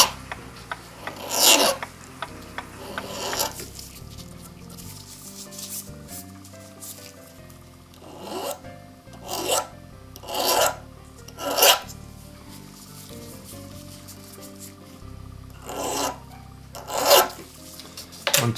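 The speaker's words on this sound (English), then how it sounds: "Light filing, we don't want to take too much off, you just want to smooth it off again." Light filing on a brass part from a Gilbert kitchen clock, a series of short dry rasping strokes in irregular bursts, fairly close and quiet with pauses between them.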